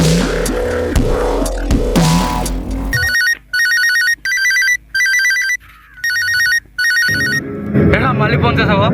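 A telephone ringtone rings loudly in repeated electronic bursts with short gaps between them, preceded and followed by louder busy sound and voices.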